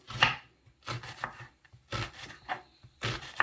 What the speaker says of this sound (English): I'm now slicing up my red onions.